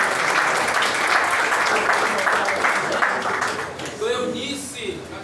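A church congregation applauds during a service, a broad wash of clapping that fades toward the end as a voice begins speaking over it.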